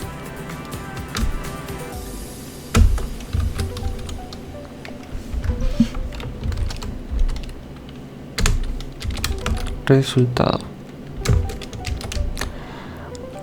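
Rapid typing on a malfunctioning computer keyboard fills the stretch, close and uneven, with bursts of clicks and a few louder key strikes while someone says a word.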